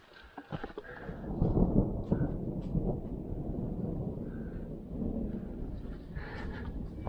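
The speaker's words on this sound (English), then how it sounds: "Got a little rumble of thunder." A low rumble of thunder rolls through on a mountain hike at Long Pond Mountain in the St. Regis Canoe Wilderness, a sustained deep growl mixed with wind and outdoor noise.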